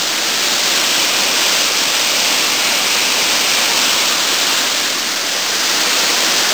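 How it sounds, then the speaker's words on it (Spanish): The Minas Viejas waterfall in the Huasteca Potosina roars as a loud, constant broadband rush of falling water, close by and unbroken, with no voices. "Una cascada increíble, impresionante"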